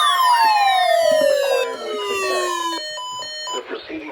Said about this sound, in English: My WR120 activated for a split second.